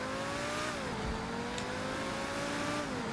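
Progen Luiva car engine in GTA Online revving and shifting, the pitch climbing and dropping through gear changes, heard faintly and steadily with no talk over it.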